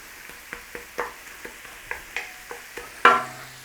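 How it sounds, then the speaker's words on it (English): Onion and garlic sauté steadily in a pan with a quiet sizzle underneath. Evenly spaced scrapes and taps of a utensil against the pan come about twice a second, ending with one louder clack. "cook that rawness out of that onion and garlic"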